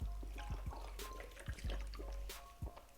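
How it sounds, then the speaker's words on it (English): A person sips and gulps water in a few quick swallows, close and fairly soft, with faint room noise and small liquid sounds between gulps. "Let me take a sip of water"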